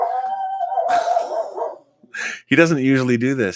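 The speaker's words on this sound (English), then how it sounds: "So I apologize for that barking." A dog barks and yelps close by, with high whining howls, while someone speaks briefly between the barks.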